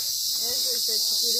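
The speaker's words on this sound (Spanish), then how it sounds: "escuchen el silbido de las chicharras." Cicadas buzzing in a steady, high, shrill drone that runs through the whole short stretch, with a faint wavering tone beneath it and no talk.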